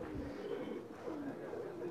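A pair of Pakistani pigeons, including a Ferozpuri, cooing softly in a loft, low rolling coos repeating a few times at close range under faint background noise.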